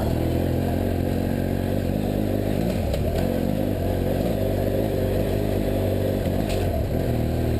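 A BMW F800GS motorcycle engine pulls steadily in first gear up an off-road hill, a continuous loud rumble with slight rises in revs and occasional clatter, heard from the rider's position.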